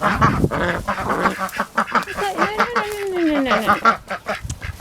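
Domestic ducks quack and honk in a dense, noisy chorus on an early spring morning, close by, with one drawn-out call standing out and a brief spoken word mixed in.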